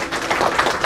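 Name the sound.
applause for a lecture speaker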